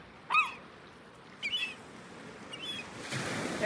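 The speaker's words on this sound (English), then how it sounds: "feeding the seagulls" Seagulls calling while being fed outdoors on a snowy day, a few sharp, high squawks at a moderate distance, separated by pauses, over a steady hiss of wind and open-air background.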